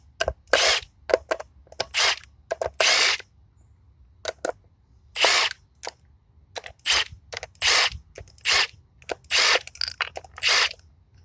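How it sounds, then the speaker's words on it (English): A power tool zips off the six clutch bolts on a motorcycle engine in repeated short, loud whirring bursts separated by quiet pauses, close up and with no talk. "I'm going to go ahead and zap off those"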